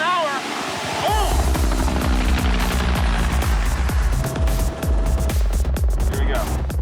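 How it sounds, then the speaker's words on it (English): A helicopter's heavy rhythmic rotor thumping grows loud and close, with voices calling out over it and scattered bangs. "Once we heard the chopper, everyone started moving."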